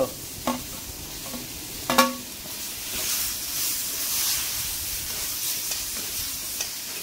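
Eggplant fries in a pan with salt, turmeric, asafoetida and masala while being stirred. A few sharp clanks of the utensil come first, then a steady, close sizzling hiss that runs on with no talk.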